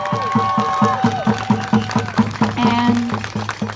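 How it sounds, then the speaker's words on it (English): Protest crowd outside the NW Detention Center in Tacoma clapping in a steady rhythmic beat, loud and close, with cheers and a raised voice riding over the repeated claps. "So let's give Crystal and her family a round of applause for their courage and determination."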